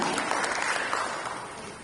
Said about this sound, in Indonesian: Mari kita berikan tepuk tangan yang meriah kepada Bapak Aditya Jaya Antara.